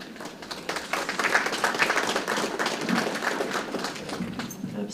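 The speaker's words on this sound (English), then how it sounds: "Absolutely deserves a round of applause, those beautiful tributes." Applause from funeral mourners after heartfelt tributes, a dense, steady round of hand clapping from a gathered crowd in an indoor hall that rises and holds for several seconds.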